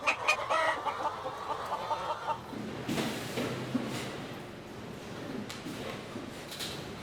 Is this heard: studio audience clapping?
no